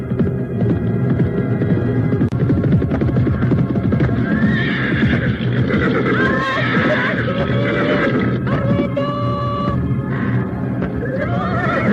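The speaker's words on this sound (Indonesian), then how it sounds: "datangnya Dewi Astini yang menyusul dengan menunggang kuda" A horse neighs loudly in an audio drama sound effect, a long rising and falling whinny with hoof clip-clop over a throbbing hum. The neigh is up close and fills the scene, with no speech.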